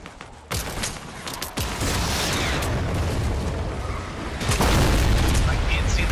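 Gunfire and booming blasts in a battle-royale shooter game, a loud dense barrage of sharp reports with explosions that grows heavier toward the end.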